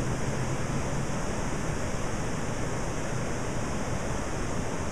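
Floodwater rushing through a creek overflowing its banks at an RV park, carrying debris and trees, a loud, continuous broadband roar of churning water with no breaks.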